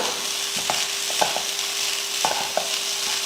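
A spoon works through beetroot egg rice in a pan over a low flame, scraping softly against the metal in a few separate strokes over a quiet, constant sizzle. No voices.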